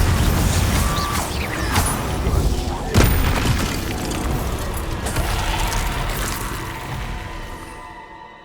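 A Confringo spell explodes in the Hogwarts Legacy video game, a loud booming blast with a sharp crack near the middle. Crashing debris and a rumbling tail follow and fade out at the end.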